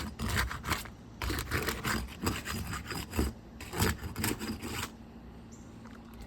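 Tools work under 3-tab roof shingles to break their sealant strips and reach the nails, giving close, repeated rasping scrapes and rubs in irregular bursts that stop near the end.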